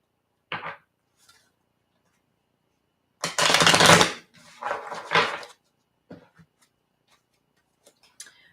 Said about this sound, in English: I'm just gonna shuffle my cards again